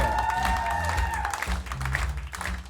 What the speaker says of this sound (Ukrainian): Діма Сірко, ваші оплески!